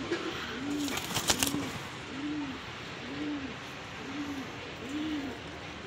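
A Jacobin pigeon from a jumbo-sized breeding pair coos in a steady series of six soft, evenly spaced, rounded calls. A short clatter of rustling comes early on, over quiet background hiss.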